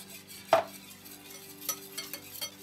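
A spoon clinks against a bowl while stirring pear cake batter with sugar and milk, with one sharp clink followed by several softer scraping taps at quiet kitchen level.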